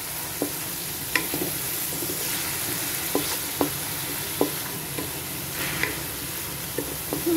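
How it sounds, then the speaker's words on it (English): Dal curry for sambar is stirred in a hot pan, a spoon scraping and clinking against the pot in irregular strokes over a soft continuous sizzle, with no talking. "and then stir it well"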